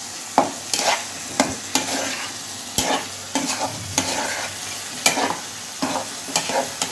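Chicken macaroni in a creamy white sauce with black pepper being stirred in a pan, a steady run of scraping spoon strokes over a soft sizzle, close and moderately loud with no talking.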